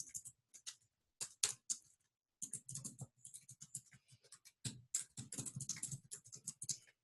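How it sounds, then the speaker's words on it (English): Keywords typed on a computer keyboard in quick bursts of close, crisp key clicks separated by short pauses, with no talking. "And I come over here and I type them in."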